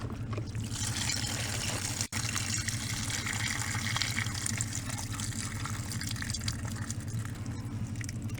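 Water drains from the rear drain plugs of a used yard-sale jet ski after about an hour of riding, a steady close rushing gush that runs unbroken except for one brief dropout, with no talking.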